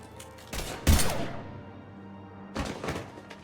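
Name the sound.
gunfire in Mass Effect 3 video game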